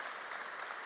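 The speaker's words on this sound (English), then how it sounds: "a big round of applause for everyone in the panel for getting involved" Brief burst of steady crowd clapping for the panel at a FANUC UK open house on collaborative manufacturing, dense and uniform, heard a little way off.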